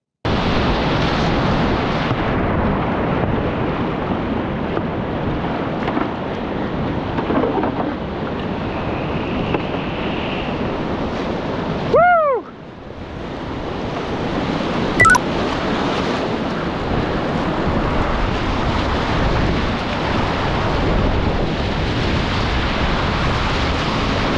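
Continuous roaring rush of turbulent whitewater at Little Falls, a river wave splashing loud and close at 5,580 CFS, with a brief dip midway and a short whistling tone before the churning resumes.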